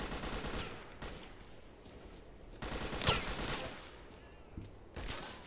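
Gunfire from a hostile stalker in S.T.A.L.K.E.R. Call of Chernobyl, heard as scattered bursts of shots: one near 1 second, a denser cluster around 3 seconds, and another crack near the end, set against steady ambient game noise.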